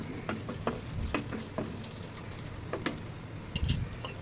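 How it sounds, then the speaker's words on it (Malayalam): Garlic and onion fry in a pan with a soft sizzle under sharp, irregular clicks of a utensil stirring and scraping, close and fairly quiet, with no voices. "വെളുത്തുള്ളി ഉള്ളിയൊക്കെ ഒന്ന് ഇതായി ഫ്രൈ ആയിട്ടുണ്ട്"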